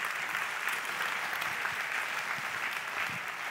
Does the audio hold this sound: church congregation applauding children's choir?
yes